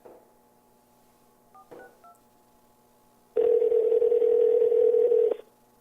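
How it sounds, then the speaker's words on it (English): A few short telephone keypad tones beep, then a steady dial tone hums for about two seconds before cutting off. "Is that dial tone going on the video?"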